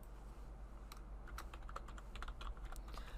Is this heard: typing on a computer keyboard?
yes